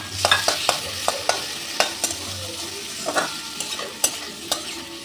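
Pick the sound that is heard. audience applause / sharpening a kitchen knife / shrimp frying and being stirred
shrimp frying and being stirred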